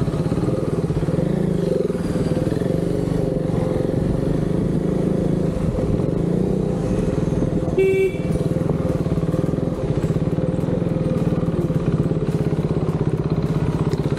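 Motorcycle engine droning steadily throughout a ride, loud and continuous, with a brief horn honk cutting through near the middle.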